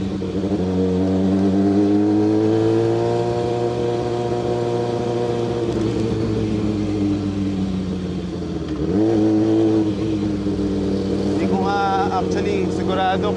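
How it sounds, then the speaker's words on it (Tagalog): Loud Kawasaki ZX-6R motorcycle exhaust drones steadily at close range, its pitch sagging and rising as the revs shift, with voices talking over it and children's higher voices near the end. "Sa lakas ng tambucho natin."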